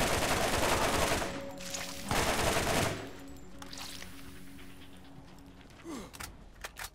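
Rapid machine-gun fire in a video game comes in dense, loud bursts over the first few seconds, then fades into quieter background sounds with a few scattered faint pops.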